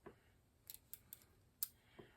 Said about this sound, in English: I was wondering why the paper kept slipping up under the scissors